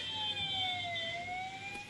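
Ambulance siren played back through a small speaker for a Raspberry Pi emergency vehicle detection project at a traffic signal, a faint steady wailing tone sliding slowly down and back up over low background noise.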